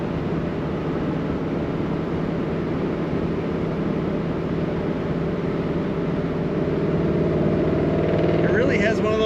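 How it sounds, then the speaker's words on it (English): A 1956 Ford Fairlane Sunliner convertible's engine and exhaust run close by in a steady, deep, burbling rumble, rising slightly as the throttle is touched near the end. "You just want to keep touching the throttle so you can hear it"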